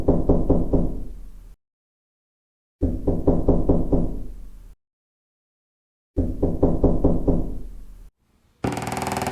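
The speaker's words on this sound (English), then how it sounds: "The knocking grew louder" Knocking on a door comes in three bursts of rapid, loud, close raps, separated by full silences, followed by a short hiss of noise at the end.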